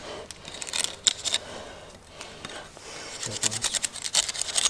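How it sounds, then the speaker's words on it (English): A knife trims thin repair layers off a horse hoof in short, close scraping and cutting strokes, with quiet rustling between them. "So we'll trim this away now."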